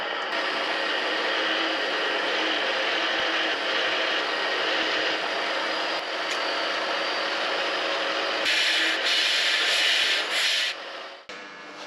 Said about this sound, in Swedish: Så då sätter vi igång och borrar.